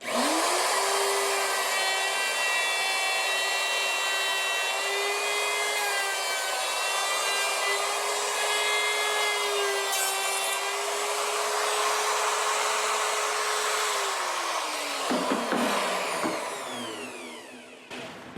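A router fitted with a half-inch bit trims excess wood off a custom guitar body. It gives a steady, loud, high-pitched whine with no one talking, then winds down and stops near the end.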